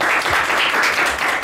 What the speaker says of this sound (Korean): 박수로 한번 청해 주십시오.